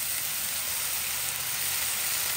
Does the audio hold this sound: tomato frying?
yes